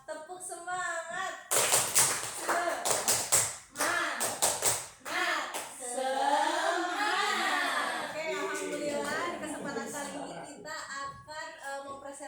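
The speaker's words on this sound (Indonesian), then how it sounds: "kita tepuk semangat dulu ya." A group performs a rhythmic 'tepuk semangat' cheer at the start of a conference presentation, with sharp patterned bursts of clapping mixed with voices, followed by continuous speech.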